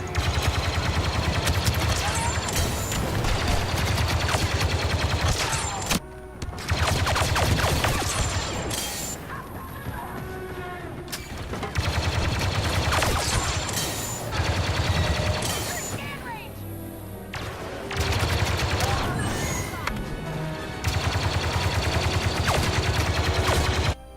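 Rapid blaster fire from the heavy-class DLT-19 in Star Wars Battlefront 2, long loud bursts of repeated shots with short pauses between volleys, over game effects and a voice speaking.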